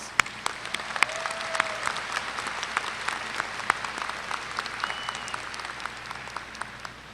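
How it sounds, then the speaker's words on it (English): Sustained audience applause at the Texas A&M-Corpus Christi 2018 spring commencement, a dense steady wash of many hands clapping with a few sharper individual claps standing out, continuing evenly for the whole stretch. "Let's give them a round of applause."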